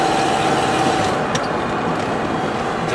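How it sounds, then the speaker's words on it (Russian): A 2007 Nissan Qashqai 2.0 petrol engine with automatic transmission idles at slightly raised revs with a steady low rumble and broadband hum, close and constant, no voices. "Посторонний немножко звук от двигателя"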